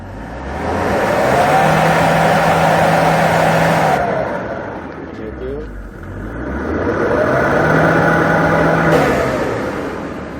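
A 2005 Kia Bongo III single-cab diesel with manual transmission revs up smoothly twice, the engine note rising, holding, then falling back, close and loud, with the second rev following a short dip.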